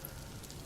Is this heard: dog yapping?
no